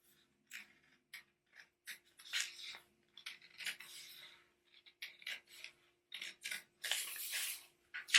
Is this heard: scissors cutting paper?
yes